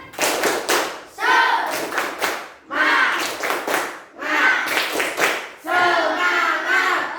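Schoolchildren in a classroom perform a rhythmic spirit clap, bursts of group clapping and thumping alternating with loud chanted shouts in a repeating pattern across several rounds.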